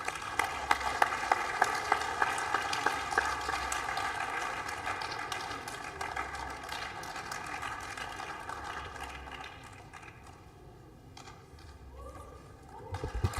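Audience applause at a conference podium: a dense, steady patter of clapping that holds for about ten seconds, then thins and fades out toward the end.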